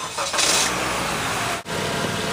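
The engine of a 2012 Honda Civic cranks and catches with a brief burst, then settles into a steady, loud idle with a short dip partway through.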